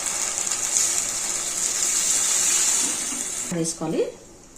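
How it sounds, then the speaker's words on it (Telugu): Water pours into a pot of potato kurma as a steady, close rushing hiss; it tapers off near the end, where a voice briefly speaks. "ఇప్పుడు వాటర్ వేసుకోవాలండి."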